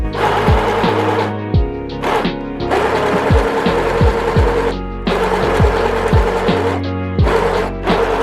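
A sewing machine stitches a fabric lining for a crocheted fanny pack, running in several bursts with short pauses between them and a steady mechanical whir throughout, close and fairly loud with no talking.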